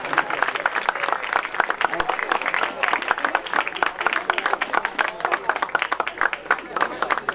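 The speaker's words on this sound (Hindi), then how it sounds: "दूसरे विद्यार्थी जरा जोरदार तालियां बजाते रहें" Students at a school farewell function clap steadily and loudly, a dense continuous roomful of applause that carries on throughout, with a voice faintly audible beneath it.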